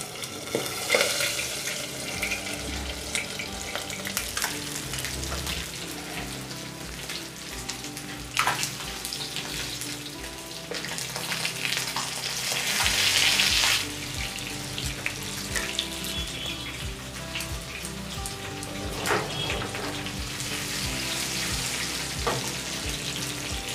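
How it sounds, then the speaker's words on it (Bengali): Boal fish fry in hot oil in a kitchen, a continuous close sizzle mixed with running tap water and occasional scraping clatter, with no voices throughout. "মাছগুলো ভাজা হয়ে গেছে, তুলে নেব।"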